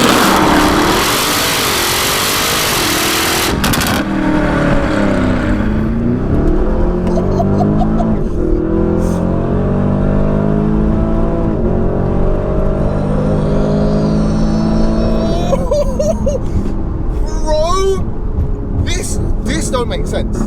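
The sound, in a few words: Porsche Cayenne Turbo GT engine accelerating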